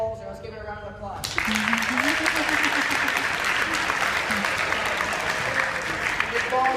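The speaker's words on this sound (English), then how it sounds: "Let's give her a round of applause" A round of applause breaks out for a school teacher, Ms. Balzer, starting abruptly after a brief spoken line and continuing as a dense, steady wash of many hands, with voices murmuring and calling over it.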